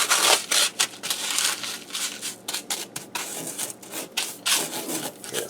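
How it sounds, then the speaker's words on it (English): Brown sugar, salt and pepper being blended by hand into a dry rub for pot roast, a close, steady rasping and rubbing texture with irregular gritty strokes, no talking. "I'm going to go ahead and blend these all together because we're making a dry rub for on our pot roast"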